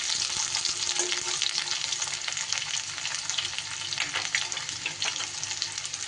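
Thickly sliced onions hit hot oil in a pan and fry with a loud, steady, crackling sizzle that carries on evenly throughout, close up and with no talking.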